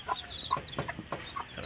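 Young Black Tiger chicken chicks, January-hatched, peeping in a series of short, thin chirps with small gaps between them, close by and fairly quiet, with no voices.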